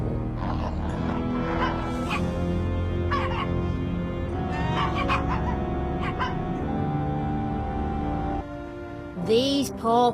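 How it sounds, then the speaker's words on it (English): Several puppies in the Wallace & Gromit video game bark, yip and whimper in a busy chorus of short overlapping cries, followed by a brief quieter stretch and a couple of sharp final yelps. "These poor pups won't go homeless after all, Gromit."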